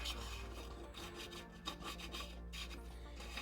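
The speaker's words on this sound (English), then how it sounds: "I'll just take a pencil on a nice level surface, and I'll just go all the way around the cab," A pencil traces around an agate cabochon on a level surface, a faint continuous rubbing scratch with slight variations in pressure, quiet and close, with no voices.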